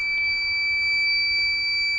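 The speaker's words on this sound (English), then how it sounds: "So you hear the pump going." An electric fuel pump running in a 1971 Chevrolet C10 makes a steady, thin high whine that holds without change throughout, faint over a low background rumble, with no talking.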